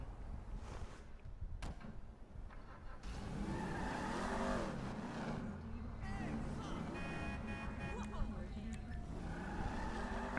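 A stolen car's engine in Grand Theft Auto 5 hums and revs steadily across the scene, mixed with game ambience and someone talking over it.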